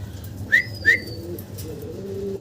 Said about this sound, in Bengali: অসাধারণ সুন্দর এক জোড়া কবুতর আমরা দেখতে পারতেছি